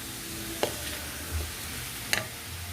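A coconut and jaggery mixture fries in a pan on a low flame, giving a soft, steady sizzle with a couple of faint clicks from stirring.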